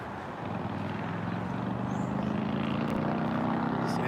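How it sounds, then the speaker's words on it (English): A truck engine rumbles steadily as it passes on a nearby road, a continuous low drone holding at even loudness for the whole few seconds with no talking. "This engine sound behind me."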